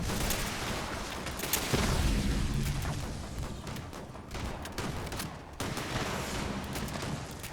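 A commando ballistic weapon fires in Fallout 76, a dense, continuous rattle of rapid gunshots with booming impacts that lasts the whole stretch, loud and unbroken, with no speech.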